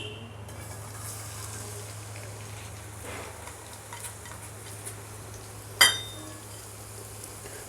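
Chopped onions and green chillies frying in a pan for egg paniyaram, with a steady soft sizzle and faint stirring scrapes, a sharp clink of the spoon against the pan near the end.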